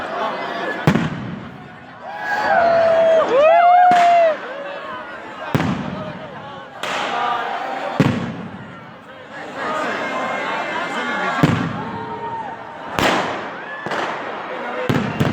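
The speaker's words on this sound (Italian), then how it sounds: "Volete vedere i fuochi?" Fireworks bursting over Piazza Libertà in Udine at a New Year's 2022 gathering, with sharp repeated booms and crackles spread through the clip, heard under a man's speech amplified to the crowd and background chatter.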